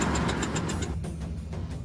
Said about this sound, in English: Engine's gone, back on 3 cylinders.